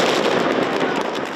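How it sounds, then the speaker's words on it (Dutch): New Year's fireworks near the Gaasperplas lake in Amsterdam crackle in a dense, loud burst of rapid pops that blur together for a little over a second. "Vermoedelijk door vuurwerk."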